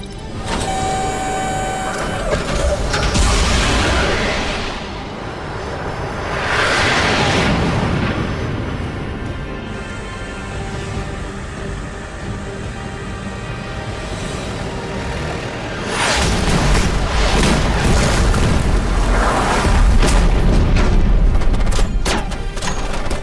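Heavy artillery fires on a command vehicle, the loud booming blasts and rumbling explosions swelling in waves over a constant roar of battle.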